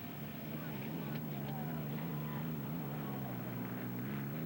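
Racing hydroplane boat engines thunder along a shoreline course at the 1982 Seattle races, a steady loud low drone with a sustained harmonic hum, under an announcer's talk.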